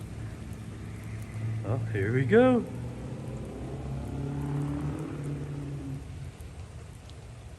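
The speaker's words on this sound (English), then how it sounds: "It's raining outside." Steady rain patters in the background while a person speaks briefly, with a low rumble underneath throughout.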